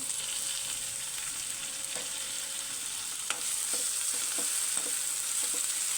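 Ginger garlic paste frying in a pan, an even crackling sizzle that brightens partway through, with a few light taps of a spatula stirring.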